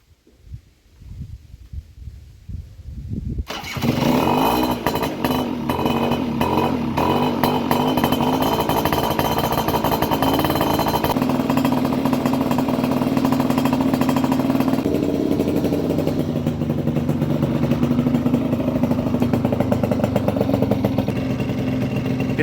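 A small Honda Vision scooter engine starts up after a few quiet knocks, then idles steadily with a buzzing, slightly uneven putter.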